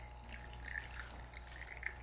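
A small water feature in a nativity village display trickles steadily, a soft continuous splashing with faint drips over a low background hum, fairly quiet and without voices.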